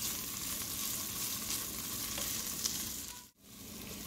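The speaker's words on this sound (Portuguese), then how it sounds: "E vamos também deixar fritando aqui até dourar." Chopped calabresa sausage sizzling and frying steadily in a pan while cooking for a corn broth, a dense continuous crackle heard up close and alone, with a brief dip near the end.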